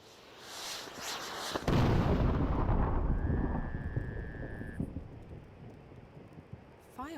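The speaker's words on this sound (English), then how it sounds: "Fireworks? Maybe they're celebrating something." Fireworks in the video game Dreamfall: The Longest Journey, heard as a loud booming burst with a rumbling, crackling tail that fades over several seconds, with a whistling tone partway through.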